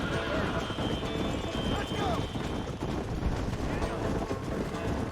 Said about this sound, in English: Big old line of horses in the way.